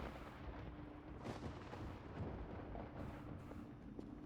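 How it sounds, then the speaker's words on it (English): Low rolling thunder in the Voices of the Void video game rumbles in several heavy booms, fairly quiet and distant, with no talk over it. "Okay, and now I'm hearing thunder"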